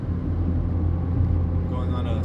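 A 2013 Fiat 500 Abarth turbo engine pulls uphill under heavy throttle, giving a steady low rumble and drone from inside the cabin while someone talks over it.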